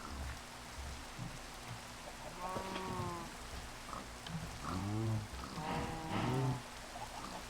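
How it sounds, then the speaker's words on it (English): Steady hissing rain falls in the video game Minecraft, a soft, even patter with cattle mooing several times over it. "Oh, it's raining."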